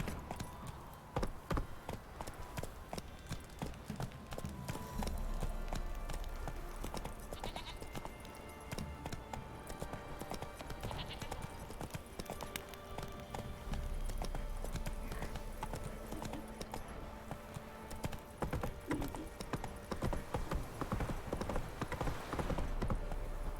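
Horse hooves clip-clopping steadily through the whole stretch in The Witcher 3: Wild Hunt, a continuous rhythmic gait with ambient game sound and animal bleats mixed in, no talking.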